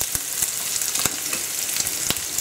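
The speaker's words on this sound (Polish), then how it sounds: "Boczek już nam się ładnie podsmażył" Bacon frying in oil in a pan: dense, close sizzling with frequent sharp pops and crackles across the short stretch, no speech.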